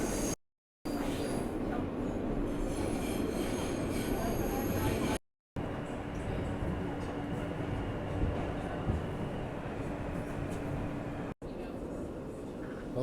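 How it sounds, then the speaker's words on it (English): An R160 subway car on the Queensbound R line rumbles along with a steady broadband roar and a faint sustained wheel whine, recorded from inside the car, with a few brief cuts in the sound. "I am on the Queensbound R train."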